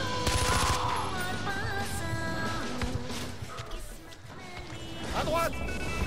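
Gunfire in the video game Far Cry 4, with bursts of rapid shots and impacts mixed with engine noise and game effects throughout, while voices talk over the action.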